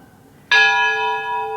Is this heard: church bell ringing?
yes